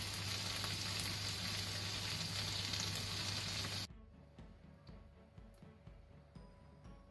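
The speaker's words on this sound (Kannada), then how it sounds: "ಈಗ ಇಲ್ಲಿ ನೋಡಿ ನಮ್ಮದು ಪಾಪ್ಲೆಟ್ ಎರಡು ಸೈಡ್ನು ಫ್ರೈ ಆಗಿದೆ ಒಳ್ಳೆ ರೀತಿ" Pomfret ghee roast sizzling and frying in a pan, a loud steady crackle that cuts off abruptly, leaving faint clinks and kitchen sounds.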